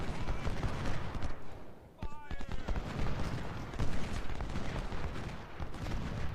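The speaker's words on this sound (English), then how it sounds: "Shoot the artillery." Artillery fires in the Civil War strategy game Ultimate General: Civil War, a rolling volley of gun blasts and cracks thumping repeatedly over a busy battlefield din, with a voice talking over it.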